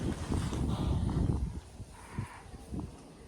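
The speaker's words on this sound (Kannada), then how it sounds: "ಎಷ್ಟು ಪ್ರಶಾಂತವಾದ ಗಾಳಿ ಬರುತ್ತೆ ಇಲ್ಲಿ" Wind gusts buffet the microphone with a heavy low rumble, easing after the first second and a half into softer, intermittent puffs.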